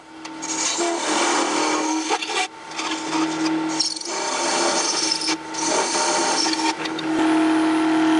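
A hand tool scraping steadily along the surface of an aluminum bar, with loud, close, continuous rasping strokes broken by a few short pauses.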